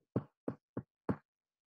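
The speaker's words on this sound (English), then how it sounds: "If he liked a picture, he would knock it with his middle finger" Four sharp, dry knocks of a middle finger rapping on a framed picture, evenly spaced and close, with silence between them.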